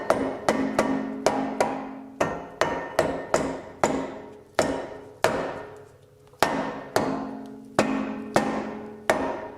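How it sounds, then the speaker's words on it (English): A rubber hammer repeatedly taps a stuck BMW 228i brake rotor, about two dozen firm, close blows in uneven bursts, each leaving a short metallic ring, with no talking. "Use a rubber hammer, tap it"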